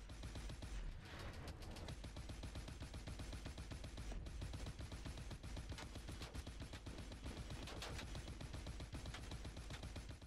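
Dense, continuous gunfire and explosive battle noise from the futuristic shooter Advanced Warfare, loud and sustained with rapid crackling shots layered over a constant heavy rumble and no talking.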